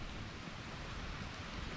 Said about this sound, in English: This little bit of rain ain't gonna melt us, ain't gonna hurt us